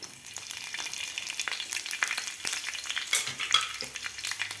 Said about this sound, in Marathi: आता मिरच्या आपल्याला या मिरचीला डाग पडेपर्यंत आपल्याला भाजून घ्यायच्या आहेत मिरच्या